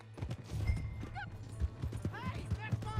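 Horse hooves clip-clop steadily in Red Dead Redemption 2, with a couple of brief whinnies rising over the hoofbeats while people talk loudly nearby.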